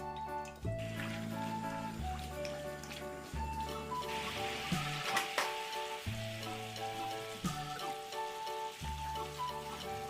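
Seasoning sauce boiling hard in a frying pan over a high gas flame, giving a steady close sizzle and bubbling crackle throughout, with faint tonal background music beneath.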